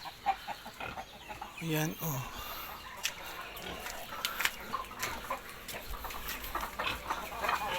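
Backyard chickens cluck in scattered, intermittent bursts near and far, mixed with someone talking over them.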